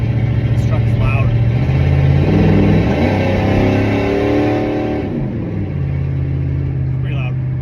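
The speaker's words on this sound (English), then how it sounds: "This truck's loud." A Chevrolet C10 square body pickup's engine drones loud and steady from inside the cab, its pitch rising and falling as it accelerates and shifts, with someone talking over the noise.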